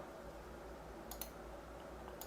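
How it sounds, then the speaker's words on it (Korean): Quiet, sharp computer mouse clicks come in a quick cluster and then once more near the end while a SolidWorks sketch is being drawn, over a faint steady room hum. "클릭, 클릭, 클릭."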